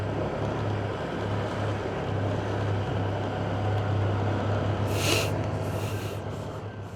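Steady low engine drone of a boat on water with continuous wash and wind noise, plus a brief hiss partway through.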